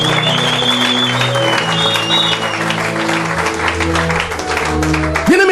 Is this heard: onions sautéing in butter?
no